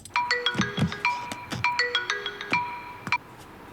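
A phone ringtone plays a bright melodic pattern that repeats for about three seconds and then stops abruptly. It is close and clear, with no talk over it.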